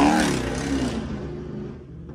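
Loud, droning exhaust of a yellow Chrysler 300 running a straight pipe with no catalytic converter, rumbling close by on a Philadelphia street in Mount Airy, then fading as it pulls away.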